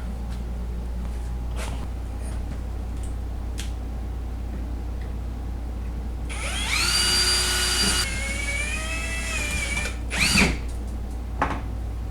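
A power drill whines for a couple of seconds while drilling during a golf cart battery conversion, its pitch shifting as it bites, over a constant low hum with a few scattered clicks and knocks.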